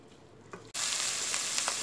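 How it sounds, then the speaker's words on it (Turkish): Onions and peppers hiss and sizzle steadily in a hot pan after a brief clatter, the frying noise loud and close. "Soğan ve biberlerimi 2-3 dakika soteledim"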